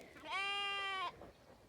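A single ram bleats once nearby, a loud clear wavering cry lasting under a second, followed by quiet background.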